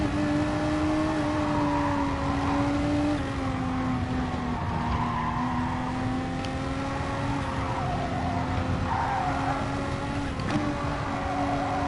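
A race car in a racing video game slides under oversteer, a steady loud engine drone with tires skidding and squealing, pitch wavering as the car loses and regains grip.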